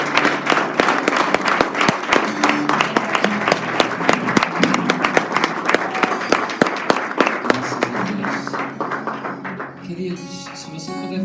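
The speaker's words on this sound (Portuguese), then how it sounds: "Um aplauso ao Senhor." A church congregation applauds at a conference service, dense clapping filling the room for several seconds before fading out, with a voice and music emerging at the end.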